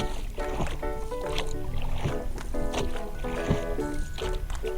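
Quick, regular oar strokes splash through the water over a steady bed of music, each stroke coming in fast succession.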